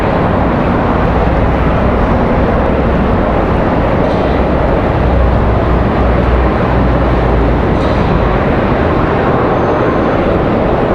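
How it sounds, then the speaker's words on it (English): A Delta A220 airliner moving out toward the runway end at RDU Raleigh-Durham airport on a windy day, heard as a loud, constant broadband engine roar blended with heavy wind rumble, unbroken for the whole stretch. "Looks like we got another Delta A220. That might be the 300 headed out to the end of the runway"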